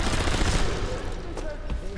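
A Thompson submachine gun in the Sniper Elite V2 video game firing a dense, rapid burst, loud and close, with the rattle tapering off near the end.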